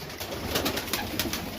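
Pigeons in a backyard loft give off soft, low cooing that carries on steadily and fairly close across the short stretch, with no talk over it.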